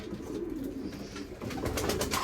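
Homing pigeons coo softly in an enclosed loft, several birds overlapping in low murmuring calls, with faint rustling and background activity.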